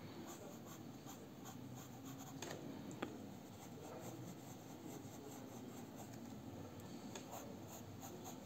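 Pencil sketching a portrait on paper makes a soft, steady scratching and rubbing of graphite, continuous through the clip with faint swishing strokes, close and quiet.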